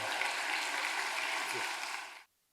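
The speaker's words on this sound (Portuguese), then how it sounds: "Aplauda o Senhor, dê um brado de vitória." A church congregation at a Baptist communion service applauding together, dense sustained clapping that holds steady and then cuts off abruptly into silence.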